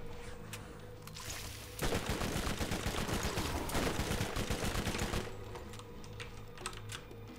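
Rapid automatic gunfire from a fast-firing gun in the video game Borderlands, a dense burst of shots lasting about three seconds, loud over quieter game ambience with scattered lighter shots before and after.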